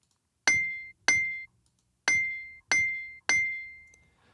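A metal spade struck five times, each hit a sharp ringing clang with a bright sustained tone, processed through a compressor to soften the attack; hits are spaced irregularly and stand alone without talk.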